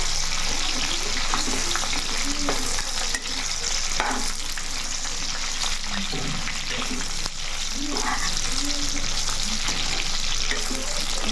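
Dried red chillies roast in a pan while being stirred continuously, producing a dense, loud sizzling hiss with repeated scraping and rustling strokes.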